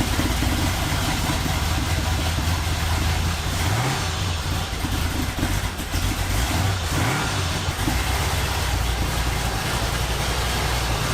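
A wrecked Monte Carlo SS runs steadily at close range, its engine holding a low, continuous idle with a slight rise in revs partway through, no voices over it.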